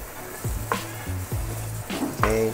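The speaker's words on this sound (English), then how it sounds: "start to fry it around" Noodles fry in a hot pan with a steady close sizzle, broken by several short scraping stirs of a utensil against the pan over a couple of seconds.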